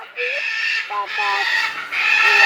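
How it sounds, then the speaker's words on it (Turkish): Parrots squawk and chatter in a series of tonal, whistling calls close by, nearly continuous across the short stretch with brief gaps, while the birds come toward someone offering food. "Papağanlar konuşuyor."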